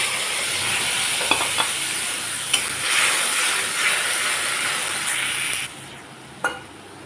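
Ground spice paste hisses and spits loudly as it hits a hot pan, with a few sharp clinks of a spoon, before the sizzle drops lower near the end.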